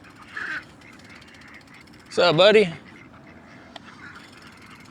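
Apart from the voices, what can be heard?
ducks quacking at a pond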